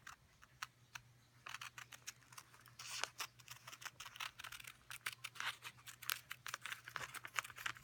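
Scissors snip steadily through fabric backed with heat-and-bond, rough-cutting a maple leaf shape about a quarter inch outside the drawn lines. The cuts come as quiet, close, crisp clicks and rustles in an irregular, quick rhythm under a faint steady hum.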